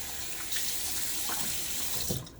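Tepid hard water runs from a tap into a bathroom sink during a wet shave, a continuous close splashing hiss with small shifts as hands pass through the stream.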